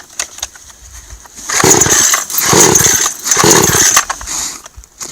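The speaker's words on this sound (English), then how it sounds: "we're out here on the ice with the Orcish, whatever it is, Chinese chainsaw" A cheap Orcish Chinese chainsaw runs outdoors on a frozen lake, idling, then revving up in three loud, buzzing bursts with short dips between.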